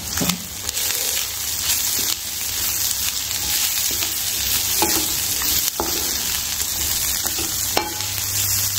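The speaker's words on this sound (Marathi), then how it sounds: "त्यानंतर हे बेडगे मिरची आहेत 2, विसरले होते दाखवायचे, आलं, लसूण, ते छान परतून घेणार आपण" Byadgi chillies, ginger and garlic sautéing in a pan with onion and whole spices, a dense, loud, continuous sizzle with intermittent stirring scrapes and knocks throughout, no voices.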